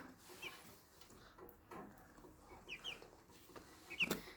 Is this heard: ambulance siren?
no